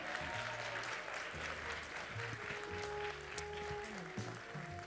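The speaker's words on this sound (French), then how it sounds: "je vous demanderai encore une fois un tonnerre d'applaudissements pour les différentes équipes qui sont présentes aujourd'hui" An audience at a closing ceremony gives the teams a thunderous round of applause, loud and sustained throughout, with music pulsing beneath the clapping.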